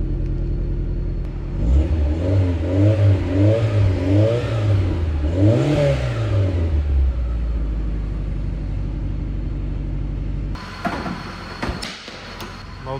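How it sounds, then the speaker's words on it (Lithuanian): A VW Golf Mk2 engine held at high idle to warm up, a steady loud mechanical drone with the revs rising and falling in waves mid-way before settling, then a clunk and rattle near the end. "Iš garso tai atrodo, kad labai rimtas variklis dirba"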